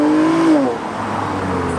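Revving Honda car engine at a nighttime park-and-chill car meet, a loud rising whine that peaks and then drops into a rumbling idle, with crowd noise around it.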